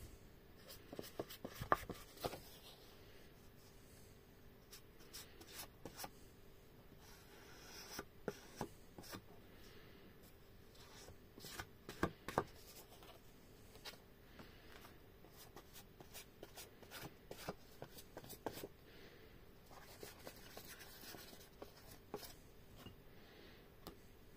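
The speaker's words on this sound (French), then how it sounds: "Et on colle." Metal die-cut pieces are glued onto a handmade Christmas card. Quiet, close handling follows: scattered light taps, rubbing and paper shuffling, with occasional sharper clicks over a low steady hum.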